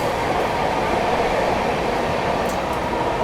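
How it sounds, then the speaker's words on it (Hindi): Bihar Sampark Kranti Express rushing at high speed through Tundla Junction, a loud, steady roar of rolling wheels and rail noise with a faint squeal near the end, no voices. "बिहार संपर्क क्रांति टूंडला जंक्शन को अपने फुल मतलब हाई स्पीड में स्किप करती जा रही है"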